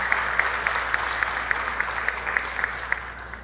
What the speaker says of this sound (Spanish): para quien pide un aplauso.